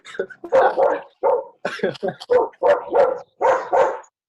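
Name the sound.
dog barking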